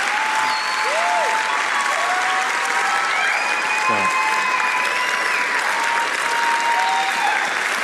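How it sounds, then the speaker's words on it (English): A church audience at a Sunday sermon breaking into sustained applause, dense clapping and cheering throughout, with voices calling out within the crowd. "There are a lot of applause breaks."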